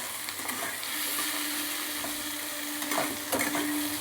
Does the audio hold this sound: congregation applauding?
no